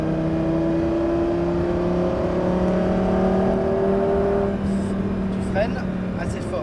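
A Lamborghini on a race circuit holds a loud, steady engine drone from inside the cabin, then the pitch drops as it eases off, with an instructor's voice briefly audible.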